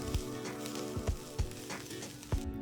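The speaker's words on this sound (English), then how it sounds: "Add a few fresh curry leaves and saute everything together just for about 2 to 3 minutes." Chopped coriander and fresh curry leaves saute in a pan for an Andhra ivy gourd chutney, a steady soft sizzle with a few louder thuds of stirring.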